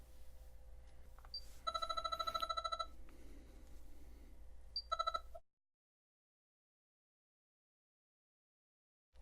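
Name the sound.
phone call ringing through Pioneer AVH-EX in-dash receiver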